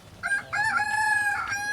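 A rooster crows at a market in Assam, one loud, close, drawn-out cock-a-doodle-doo with a short opening note then a long sustained call, over quiet background.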